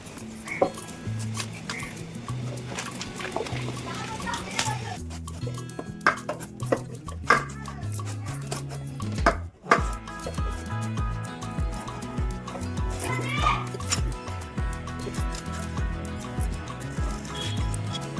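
A knife cutting a halved pumpkin into small pieces on a board, steady crisp chopping strokes with scraping and clinking of utensils, close and fairly loud, no talk.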